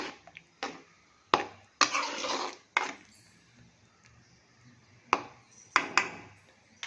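A spoon stirs an oily brinjal (eggplant) curry in a pot. Irregular bursts of metal scraping and clanking are separated by quiet pauses.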